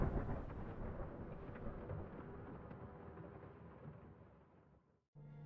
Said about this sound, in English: Then we have Thunderclap of Damien dying.